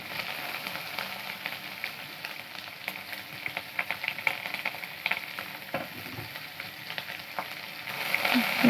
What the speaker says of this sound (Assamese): ইয়াতে কাটি লোৱা পিঁয়াজ এটা এইটো দি দিলোঁ